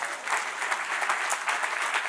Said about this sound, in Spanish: Den otro aplauso fuerte